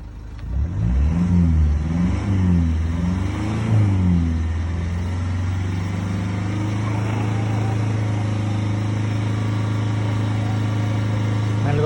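A Toyota Etios car engine, driven 1.8 lakh kilometres and treated with a carbon cleaning additive for smoke and noise, revs up and down several times and then holds a steady high RPM drone, loud and close.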